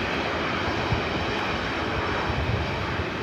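Southwest Airlines Boeing 737 jet engines roar steadily at LAX as planes queue for a north side takeoff, a broad continuous rumble with no talk over it.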